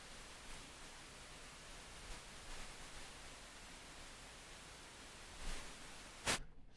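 Steady, faint pink noise test signal hisses evenly throughout, feeding a VU meter in a mastering chain, with a few soft clicks and a brief burst near the end.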